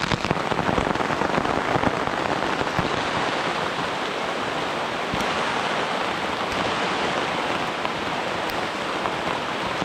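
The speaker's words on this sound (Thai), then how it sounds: "ฝนก็ยัง ตกหนักนะ ครับผมตกหนักเรื่อยๆนะครับ ไม่ยอมหยุดนะครับผม" Steady, heavy rain pours down without a break in a forest, a dense wash of noise with scattered heavier drops hitting nearby surfaces.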